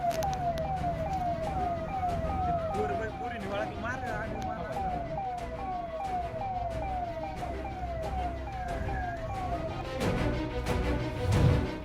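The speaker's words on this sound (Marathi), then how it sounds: "पोलिसांची गाडी सायरन वाजवत असताना देखील आरोपी गाडी थांबवण्यास तयार नाहीत" A police car chases a red Swift car through the Dive Ghat road near Pune, its siren wailing in repeated rising sweeps that stay loud and continuous over traffic noise and voices.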